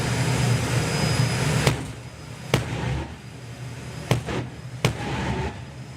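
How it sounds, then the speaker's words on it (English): A jet dragster's turbine engine spooling up on the line at a drag race, a loud, continuous broadband roar punctuated by four sharp bangs a second or so apart. "he'll build the turbine up even more"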